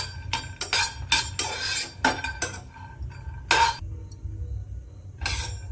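Dried coconut and peanuts dry-roasting in a pan make irregular bursts of scraping and rattling from a spoon against the metal, with quiet pauses between strokes and no sizzle or voices.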